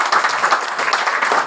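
An audience at an RCM business talk claps loudly for a speaker, a dense, steady burst of many hands applauding together for over a second.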